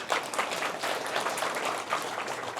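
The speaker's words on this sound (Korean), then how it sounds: "우리 테이블 팀장님들 오셨는데도 큰 박수를 부탁드립니다." Audience at a talk on Gangwon province and Kangwon Land gives a continuous round of applause, dense and steady throughout with no voices on top.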